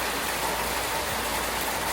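Heavy rain pours steadily outside on a wet day in Mexico, a dense, even hiss that stays loud and close throughout, with no voices.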